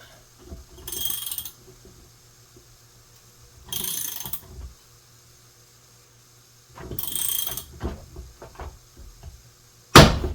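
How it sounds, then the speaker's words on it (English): Ratchet wrench working to pull a bearing off a Ford Ranger transmission during disassembly, heard as three separate bursts of rapid clicking a few seconds apart, each lasting under a second, close and fairly loud, then a sharp clank at the end. "Let's see where a ratchet gets us first of all."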